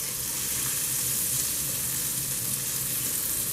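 Salmon sizzling in a hot pan, a steady, dense frying hiss that holds level from start to finish with no voices over it.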